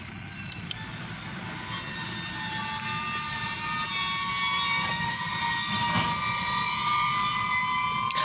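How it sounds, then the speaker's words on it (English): An OC&T short grain hopper train rolls past, a steady loud rumble of wagons with high, sustained wheel squeal and screech tones running throughout, heard up close and without talk. "a grain train coming"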